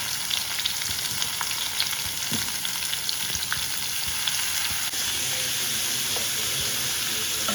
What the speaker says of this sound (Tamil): எல்லா காயும் போட்டு நல்லா வதக்கிக்கலாம்.